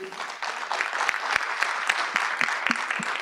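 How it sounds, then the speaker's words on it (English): A round of applause at a legislative session for a singer: a moderately sized crowd clapping steadily for about three seconds, with a few sharper individual claps standing out, mid-distance and fairly soft. "Everyone, please join me in a round of applause for"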